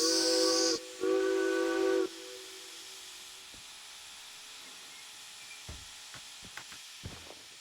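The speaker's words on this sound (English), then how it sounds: "It's just steam, right?" A derailed train venting steam gives two loud, shrill whistle-like blasts laced with hiss, the second longer, then fades to near quiet broken by scattered faint clicks and knocks.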